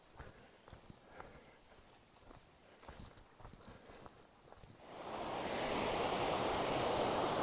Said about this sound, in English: Nice little stream here.